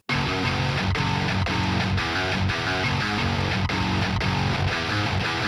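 A distorted electric guitar plays a dense, sustained riff through a neural amp model, loud and continuous with rhythmic chord changes and no voices.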